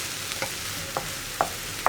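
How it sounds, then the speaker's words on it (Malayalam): Tender jackfruit thoran is stirred in a pan, with a soft background sizzle and four short, separate scrapes of a spoon against the pan at uneven intervals. "ഇതൊന്ന് നന്നായിട്ട് ഇളക്കി മിക്സ് ചെയ്തതിന് ശേഷം ലോ ഫ്ലെയിമിലാക്കിയിട്ട് ഒന്ന് അടച്ചു വയ്ക്കുക"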